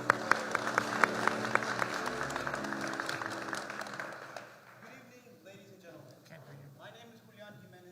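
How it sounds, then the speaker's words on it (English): An audience at a startup pitch competition applauds, crisp loud clapping for about four seconds that then thins and fades into quieter room noise. "applause."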